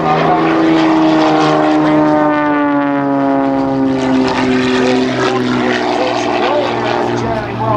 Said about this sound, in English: bring this airplane across the sky.